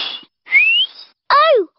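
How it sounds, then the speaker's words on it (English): Cartoon whistling, with a breathy attempt followed by two clear whistled tones, the last bending upward and then down, close and fairly loud with no talk. "It sounded like a whistle to me."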